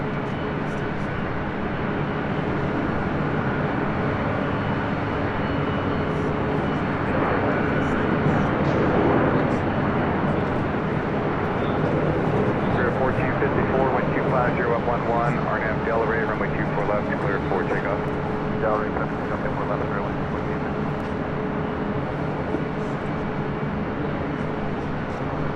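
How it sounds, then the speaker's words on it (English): A Delta Airlines Boeing 767-300ER jet roars continuously at close range at Los Angeles airport, a broad sustained engine rumble with a slowly shifting whine, steady for the whole stretch. "Looking at Delta Airlines flight 763 heading to JFK and a 767-300ER"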